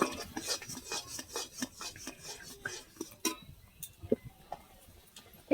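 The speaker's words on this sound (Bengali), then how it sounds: "ভালো করে দুধের সাথে একসাথে করে নেবো আমটা" A spoon stirs ripe mango into milk for mango kheer, making a rapid series of wet scraping, clinking strokes against the pot that slow into sparse taps and then stop.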